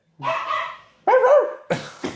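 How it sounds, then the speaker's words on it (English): A dog gives three loud, close barks: a long first bark, a second after a short pause, then a quick final bark. "Sorry about the dog, guys."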